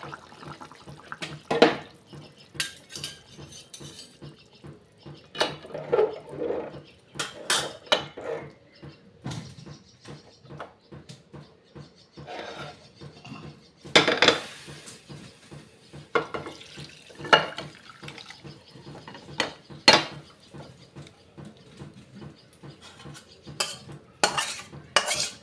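Rui fish curry with potato and raw mango being served, with cutlery clinking and scraping against dishes and pots in repeated sharp, close clatters spread through the whole stretch, no talking.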